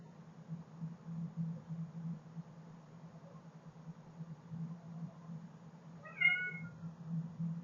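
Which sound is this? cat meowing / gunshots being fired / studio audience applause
cat meowing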